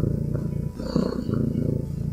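A domestic cat purring close by, a steady low rumbling throb that continues through the whole stretch with a slight rise and fall, alone without talk.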